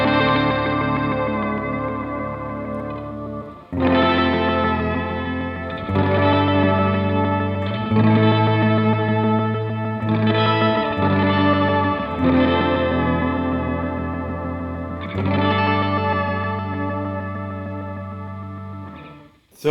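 Electric guitar on a new Starcaster played through a Dwarfcraft Super Wizard pitch-shift pedal set an octave up into a bass breaker, ringing held chords with a shimmering, doubled upper octave, restruck every few seconds and sustaining loud and alone.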